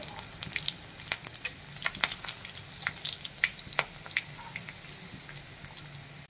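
Four or five garlic cloves frying in oil in a pan while making drumstick amti, giving a steady quiet sizzle with scattered crackles and pops, close up and heard alone.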